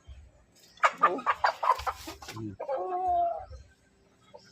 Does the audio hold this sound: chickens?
yes